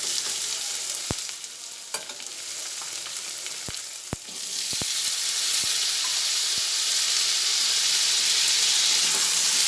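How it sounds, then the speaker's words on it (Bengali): Thinly sliced potatoes fry with onion, tomato and turmeric in a kadai, giving a loud steady sizzle punctuated by sharp spatula clicks and taps, the hiss rising and brightening in the second half. "পরে আলুটা একসঙ্গে ভেজে নিচ্ছি"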